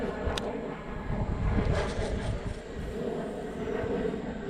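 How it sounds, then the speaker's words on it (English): An airplane passing overhead above a private farm pond, a faint broad distant roar that swells slightly and lingers as a low steady rumble with wind noise. "I'll wait for this plane to pass."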